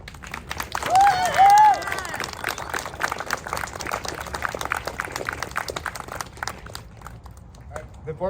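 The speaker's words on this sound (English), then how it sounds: "May I get a big round of applause?" Audience applause and scattered voices at a high school battalion change of command ceremony, filling the whole stretch at a steady, crowded level with a couple of brief whistles or cheers near the start.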